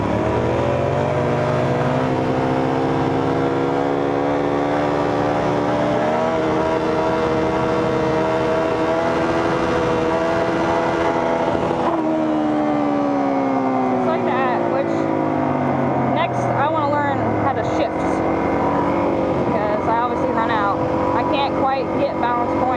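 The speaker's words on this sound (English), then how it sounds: "pump the throttle all at the same time" A motorcycle engine revs hard during wheelie practice, its pitch swelling and falling with repeated throttle pumps, loud and close for about twenty seconds with a steady harmonic drone.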